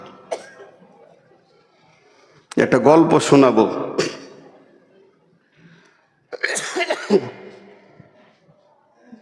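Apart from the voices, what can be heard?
cough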